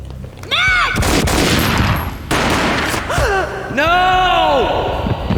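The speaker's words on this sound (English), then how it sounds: "A gunshot boomed and she fell down in slow motion." Gunfire in the Max Payne (2001) game: several sharp, loud broadband bursts land between strained gasping vocal sounds and dramatic cries, close and forceful.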